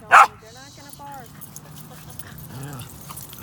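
A dog gives a sharp yip or bark, then softer whining whimpers, close by, with people talking throughout.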